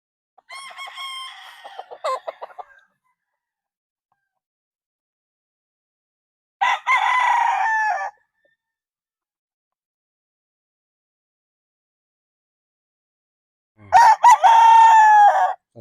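A six-month-old Gary Gilliam's Roundhead stag rooster by Golden Boy Sweater crows three times, loud and close, with long silent gaps between the calls.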